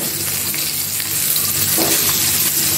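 Red snapper fillets fry in a hot oiled pan, giving a loud, dense, continuous sizzle with crackling spits throughout, close up and with no talking.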